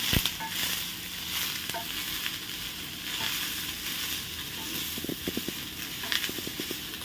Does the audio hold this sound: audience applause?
no